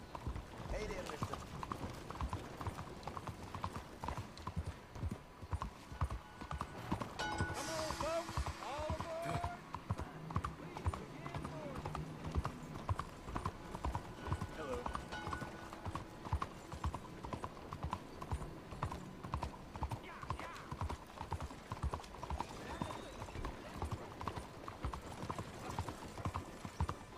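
Steady clip-clop of a horse's hooves walking in Red Dead Redemption 2, a continuous even rhythm running the whole stretch beneath game music, with a few brief voice sounds in the background.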